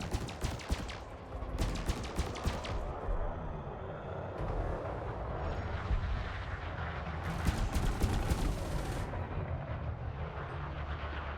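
Cannons fire at an enemy in a sci-fi shooter game, heavy booming shots and rapid bursts layered over a constant rumbling din, with sharp cracks clustered near the start and again later.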